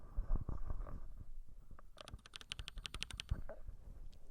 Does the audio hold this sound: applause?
no